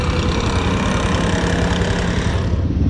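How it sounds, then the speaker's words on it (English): A Honda Hawk 250cc motorcycle engine idles up close with a loud, throbbing low rumble and rapid, even pulses that hold steady before easing slightly at the very end. "She's idling nicely."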